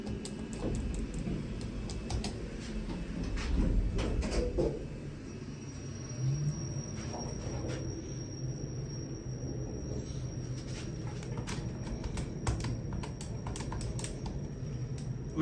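A 2002 KONE MonoSpace Sigma machine-room-less traction lift, a 1,600 kg, 21-person car, runs on its motor while travelling down, giving a steady low rumble inside the cab with scattered light clicks and ticks throughout.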